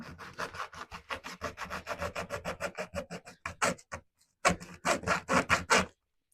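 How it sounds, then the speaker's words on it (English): A bent hand saw cuts through model railway rail in steady back-and-forth rasping strokes, close and fairly loud, with a brief pause before the sawing resumes; no one speaks. "this will cut rail, as you can see, and fiberglass sleepers, plastic sleepers, polystyrene sheeting"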